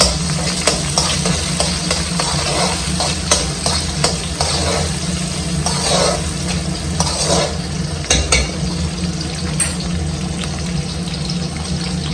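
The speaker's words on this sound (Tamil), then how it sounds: "வெந்தயம் நல்லா பொரிஞ்சதும் வெங்காயம் போட்டுக்கணும் வெங்காயம் வெள்ளைப்பூடு" Onions and garlic fry in oil with fenugreek seeds, giving a steady close sizzle with scattered clinks and scrapes of stirring throughout, alone with no voices.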